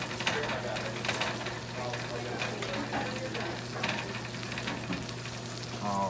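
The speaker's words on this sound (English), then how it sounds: "just go ahead and use the spatula. Go ahead and move some of them around" Pork chops fry in a pan with a constant crackling sizzle, and a spatula scrapes and shifts them now and then, close and moderately loud, over a low steady hum.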